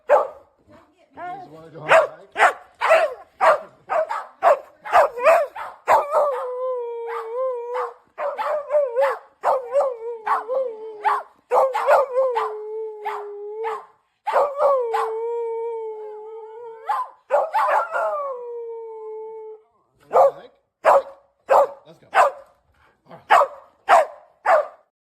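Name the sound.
dogs barking and howling excitedly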